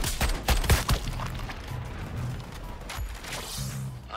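Gunfire in the video game Suicide Squad: Kill the Justice League, a rapid cluster of loud sharp shots followed by scattered booms and mechanical game sounds.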